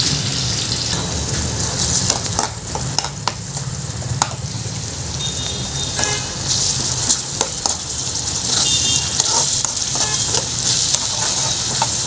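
Onion dropped into hot oil with cumin seeds sizzles loudly and continuously, with stirring scrapes in the pan throughout.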